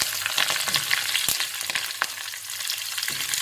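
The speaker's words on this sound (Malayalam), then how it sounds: "നമുക്ക് അരിഞ്ഞ് വെച്ചിരിക്കുന്ന ഉള്ളി മൂപ്പിക്കുക" Chopped onions and curry leaves frying in hot oil for a Kerala tender jackfruit stir fry, giving a close, steady crackling sizzle with scattered pops and scraping stirs and no talk.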